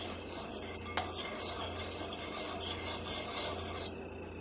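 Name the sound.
stirring a mixture with a utensil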